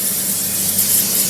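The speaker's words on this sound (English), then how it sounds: "Take a little bit of cooking spray." Cooking spray sprayed onto a skillet on a stove, one loud continuous hiss held close up for about a second, no talking.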